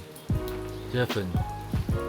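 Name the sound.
rain falling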